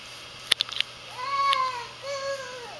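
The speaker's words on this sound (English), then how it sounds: "Oh, Mickey Cat" A pet cat meows outdoors while a toddler plays among leaves, with two drawn-out, rising-and-falling meows standing out clearly after a few quick bright clicks, and no voices over them.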